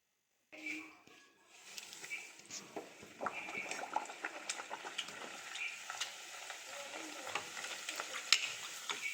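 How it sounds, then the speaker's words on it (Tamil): Puri, a puffed Indian fried bread, sizzles and crackles in hot oil, starting abruptly and then bubbling steadily with sharp popping spatters, close and moderately quiet. "இப்போது இதை எண்ணெயில் போட்டு எடுத்துடலாம்."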